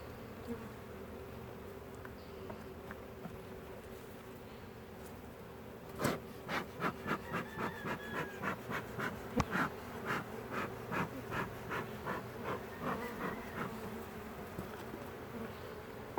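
Honeybees drone inside the bottom box of a hive, a soft steady hum that gives way to a quick run of pulsing buzzy bursts, close and fairly quiet, with no voices.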